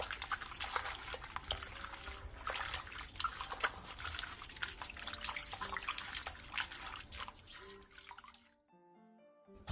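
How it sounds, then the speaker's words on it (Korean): Bellflower root being rinsed and scrubbed in water makes continuous soft splashing and sloshing with small drips, fairly quiet, then stops near the end, leaving a few faint tones. "도라지는 물에 2번 정도 벅벅 문질러가며 헹궈내준 뒤 물기를 충분히 빼놔주세요"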